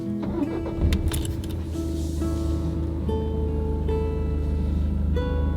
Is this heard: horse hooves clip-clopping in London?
no